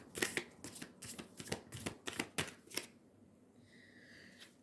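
A deck of oracle cards is shuffled with about eight quick, crisp riffling bursts close by, then a quieter pause with faint rustle.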